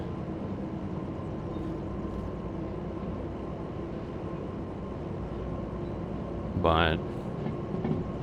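A locomotive pulling out in the Derail Valley train game, with a steady low rumble and hum running throughout and a brief rising whistle-like tone near the end. A single short word is spoken.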